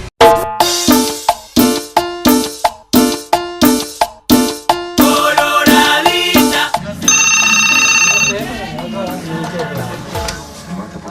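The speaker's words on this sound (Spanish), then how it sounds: "Tenemos que esperar que suene el teléfono." A telephone ringing, loud repeated electronic ring bursts in a regular rhythm that give way to a denser melodic ringtone passage, with no voices.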